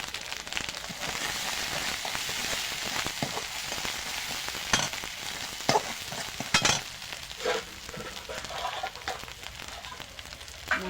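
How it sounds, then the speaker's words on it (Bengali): Spice masala with turmeric and salt sizzles steadily as it is sautéed for a magur fish curry, with occasional louder scrapes and stirs of the spatula against the pan. "মশলাটা কষিয়ে নিয়েছি"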